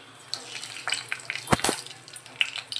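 Cumin seeds and a bay leaf sizzling in hot oil in a pan, a soft crackling fry with a few louder spits and pops close by.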